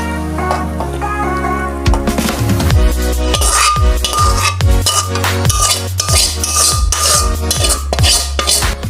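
Fried jackfruit tipped out of a wok in a Bengali kitchen, with metal utensils clinking and scraping loudly against the pan in a busy run of sharp, ringing knocks.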